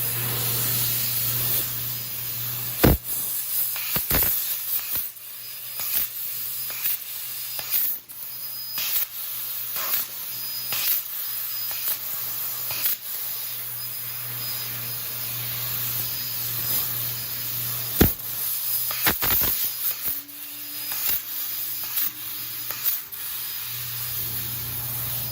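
A laser cutter slicing 14 gauge cold rolled steel with 250 PSI nitrogen assist gas through a 2.5 mm nozzle: a constant loud gas hiss broken by sharp clicks and brief bursts as the head moves, with no speech.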